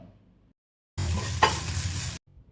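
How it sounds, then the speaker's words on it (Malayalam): Chopped onion, crushed ginger, garlic and chilli with curry leaves hit hot coconut oil in a pan, giving a short burst of loud sizzling with a stir partway through, heard alone between quiet gaps. "ഒരു സവാള നുറുക്കിയതും ചതച്ച കൂട്ടും കറിവേപ്പില നുറുക്കിയതും ചേർത്ത് ഒന്ന് വഴറ്റാം"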